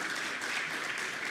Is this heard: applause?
yes